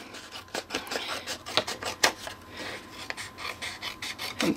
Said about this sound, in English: I just take a regular pair of scissors and you're gonna cut a diagonal